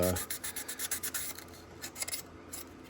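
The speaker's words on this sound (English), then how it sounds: "heavy sandpaper, 150, just to try and break through some of this glue that's on here" Glue sanded off a damaged model with 150-grit sandpaper, a quick run of rhythmic rasping strokes up close that grows fainter and more scattered toward the end.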